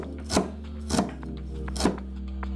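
A knife taps down on a cutting board three times, spaced slow chops dicing carrot, close and clear with a faint background hum.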